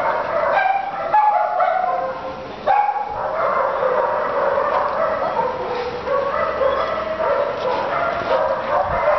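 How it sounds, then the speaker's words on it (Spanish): Several puppies barking and yipping in excited overlapping bursts, close and loud, with whimpers mixed in and some background voices. "Ay, cuántos perritos más bonitos."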